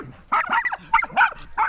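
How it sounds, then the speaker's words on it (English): A dog in Poland sounds off at other dogs in a quick cluster of close, sharp yips and barks with a whiny edge, about five bursts in under two seconds, with no one speaking. "You are so mean to other dogs."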